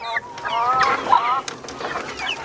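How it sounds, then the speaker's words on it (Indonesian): A red hen clucks and squawks close by in a rustic organic farmyard, a short burst of rising and falling calls. "Ini dia ayam merahnya."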